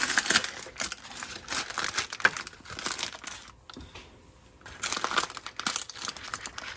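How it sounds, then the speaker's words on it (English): Crinkly wrapping is pulled and peeled open from around a steamed food package, a close, continuous rustle in bursts with a brief quieter pause midway. "let's just unwrap this"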